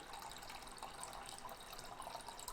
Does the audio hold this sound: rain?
no